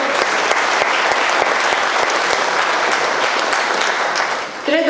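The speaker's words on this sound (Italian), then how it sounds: "oggi veramente va anche a loro il nostro grazie e il nostro applauso" Audience at a regional sports conference in Tempio Pausania gives sustained, dense applause with crisp individual claps, close and loud, tapering near the end as a voice begins.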